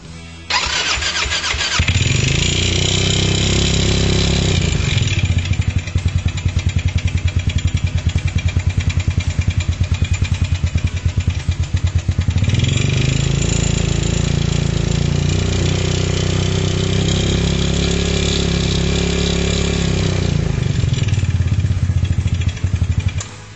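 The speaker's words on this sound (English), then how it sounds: "you're going to want to start the buggy up while it's up on a jack and let it roll a little bit" CN250 buggy engine starting up while the buggy sits on a jack after a clutch install, cranking and catching into a loud, close, rattling idle that rises and dips over several revs, with no voices.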